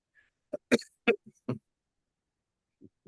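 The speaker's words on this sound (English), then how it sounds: "Since I'm coughing" A person in a study group gives a few short, harsh coughs and throat-clearing bursts close by, bunched together, then falls quiet before faint sounds resume.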